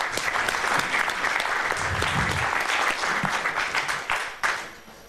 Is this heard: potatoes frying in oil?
no